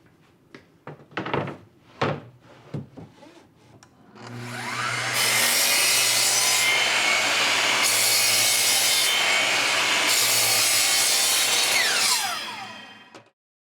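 A sanding machine grinds across a wooden shelf board in a long, loud, steady rasp lasting most of the clip, preceded by several sharp wooden knocks and thunks as the piece is set in place.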